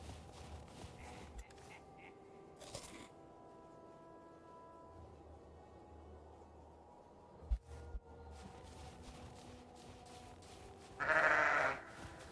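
Sheep in the video game Valheim bleating: a short, fairly loud bleat near the end of a quiet outdoor game ambience, with a couple of soft thumps earlier.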